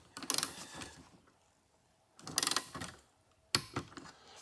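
A ratcheting torque wrench tightens front strut assembly bolts on a 2010-2015 Toyota Prius, three separate bursts of rapid metallic clicking separated by quiet gaps, close and fairly loud.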